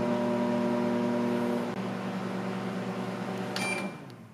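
A Sharp Carousel microwave oven runs with a steady mains hum and fan drone, close and continuous, then a brief rattle before the sound drops off near the end.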